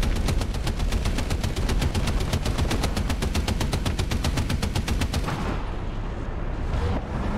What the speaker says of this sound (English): Looks like they're going for strafing runs closer than me.